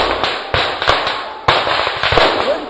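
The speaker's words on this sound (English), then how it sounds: "Gunshots are fired" Repeated sharp gunshots crack out in an irregular burst during a jungle military operation, several loud reports close together over steady background hiss, no voices.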